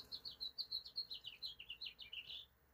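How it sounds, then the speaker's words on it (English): A house finch sings a rapid, warbling run of bright chirps and twittering notes for nearly three seconds, close and clear against a quiet background, ending in a slightly longer buzzy phrase. "Time's up. That's a house finch."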